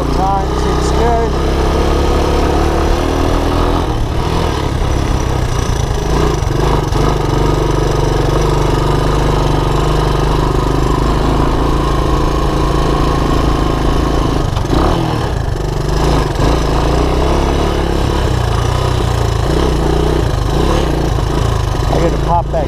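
Honda ATC200ES Big Red ATV engine with a sticking carburetor float runs loud and close, its steady idle rising and falling in surges throughout.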